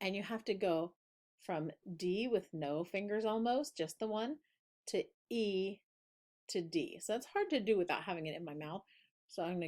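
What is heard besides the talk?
None of the usual background noises is heard.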